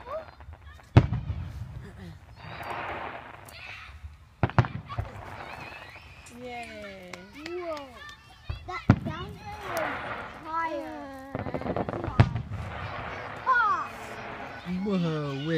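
A backyard fireworks finale: sharp loud bangs at irregular intervals with crackling between, while children and adults talk and shout over the display.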